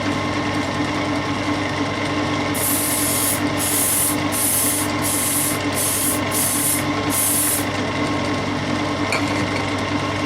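Fine lacquer coat sprayed onto a turned purpleheart wood bowl in a woodturning workshop: a run of about seven short hissing bursts with brief gaps, steady and close, over a continuous low hum of workshop machinery.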